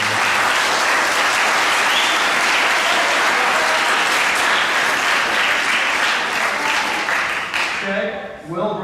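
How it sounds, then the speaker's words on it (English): An audience applauds at a school awards assembly, a dense sustained clapping from a large crowd that fades near the end as a voice begins speaking. "we all just need to give him a round of applause for this"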